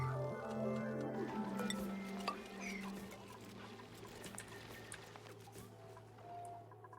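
Hatches in a survival video game give small squeaky, chittering calls over a low steady hum and faint watery patter.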